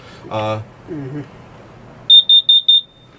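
An LP and carbon monoxide alarm in a Roadtrek Agile SS class B camper van runs its self-test, sounding four sharp, loud, evenly spaced beeps close by, right after a few brief spoken words.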